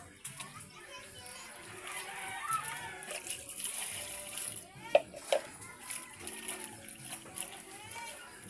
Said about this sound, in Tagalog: hugasan natin muna para matanggal yung mga alikabog.